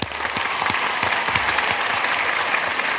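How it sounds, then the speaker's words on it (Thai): A studio audience at a Thai TV code-breaking game show claps enthusiastically, a brisk, close burst of applause with individual sharp hand claps standing out. "ขอเสียงปรบมือให้กับคุณฟิล์มด้วยครับ"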